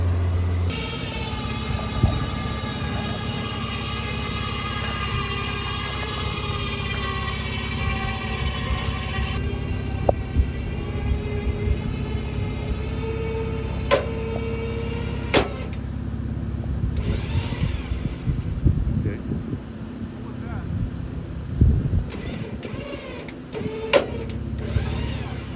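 An electric winch on a mid-sized 4WD rig pulls a vehicle out of a ditch on a Southern Utah trail, whining steadily for about nine seconds before giving way to a lower motor rumble punctuated by sharp knocks and clicks.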